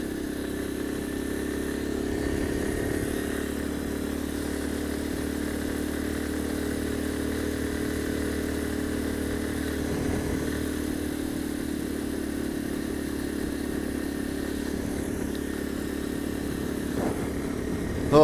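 A motorcycle engine drones steadily and continuously up close while the bike climbs uphill, a constant mid-pitched hum with no clear revving changes and a brief bump at the very end.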